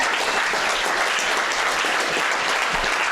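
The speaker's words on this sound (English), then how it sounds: "can we just applaud that photo?" Banquet audience applauding a photo, a dense, steady wash of clapping from many hands that fills the room evenly from start to finish.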